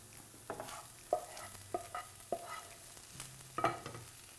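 Cooked onions stirred and scraped from a pan into a bowl, a series of distinct spoon scrapes and clinks roughly every half second over a faint sizzle, with no talking.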